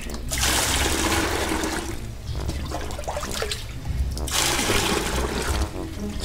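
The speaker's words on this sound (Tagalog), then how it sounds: "Lagyan lang natin ng tubig." Water is poured steadily into a daphnia culture tank, a loud continuous gushing splash that pauses briefly midway and then resumes, heard close with no talk.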